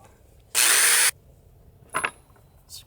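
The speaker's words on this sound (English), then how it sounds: "drill my pilot holes" A power drill bores a pilot hole in wood of a tiered plant stand, one loud half-second whirring burst, followed by two fainter short bursts of the tool in a quiet room.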